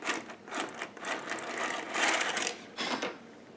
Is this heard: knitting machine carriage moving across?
yes